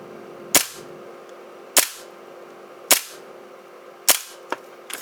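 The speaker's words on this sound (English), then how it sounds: "And then we'll just do some dry firing" A Tokyo Marui Hi-Capa airsoft pistol is dry fired, giving five sharp, loud metallic snaps at roughly one-second intervals, each cutting off quickly against a quiet background.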